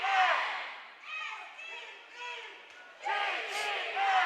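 Spectators at a district volleyball championship chant in rhythmic waves, rising and falling several times before a louder surge of shouting near the end, with a commentator's voice mixed in.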